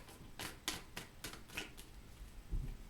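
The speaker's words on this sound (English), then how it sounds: "This time I'm just going to keep shuffling" Tarot cards being shuffled by hand in a quiet room, giving a run of about seven crisp riffling bursts in steady rhythm, close and clear, with a soft low thump near the end.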